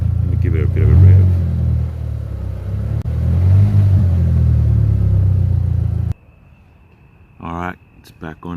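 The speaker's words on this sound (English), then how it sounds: "Let me give it a bit of a rev." An Audi S3 8L engine with a wiring fault revs with a loud rumbling drone that rises and falls for about six seconds, then cuts off abruptly, leaving quiet, a brief voice and faint clicks.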